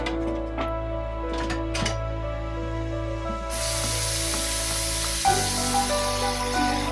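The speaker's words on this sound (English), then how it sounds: "We'll place it in a bowl and rinse it." Water runs and sprays steadily into a bowl of raw ground beef being rinsed, starting partway through as a loud, even hiss over a low kitchen hum.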